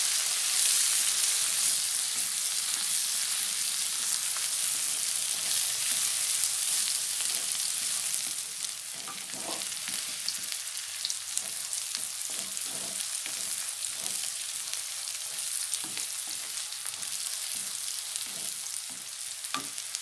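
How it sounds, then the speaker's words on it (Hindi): Onion and chopped garlic frying in a pan, a soft, even sizzle that runs throughout, joined halfway by a series of light scraping and tapping stirs. "प्याज को थोड़ा अच्छे से भूंजना है"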